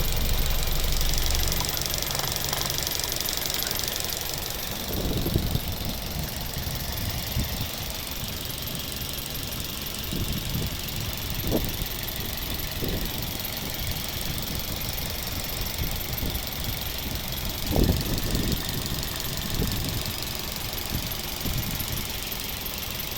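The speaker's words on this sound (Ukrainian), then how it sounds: "Дуже добре працює двигун." A warmed-up 2008 Mazda 6 II with a 2.0 petrol engine running on petrol and LPG, automatic gearbox, idles with a smooth, even hum and a few light knocks, steady throughout without voices.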